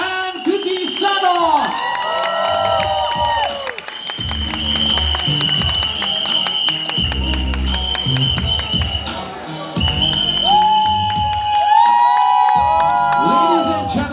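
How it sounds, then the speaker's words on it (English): A crowd at a Netflix film trailer launch event cheers, whoops and applauds loudly and continuously under booming music, with an announcer's voice over the noise. "let's have a big round of applause for the entire team of Patti"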